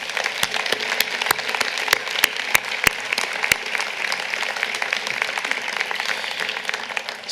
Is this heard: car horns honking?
no